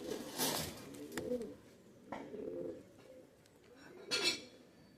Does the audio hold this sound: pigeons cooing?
yes